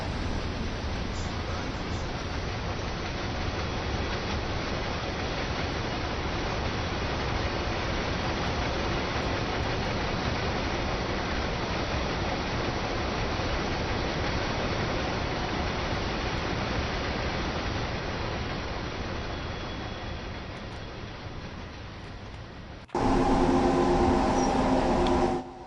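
A German train in the Train Sim World 2 video game runs with a continuous broad rumble and rolling noise, steady and loud for most of the stretch, before a sudden shift to a different sound at the end.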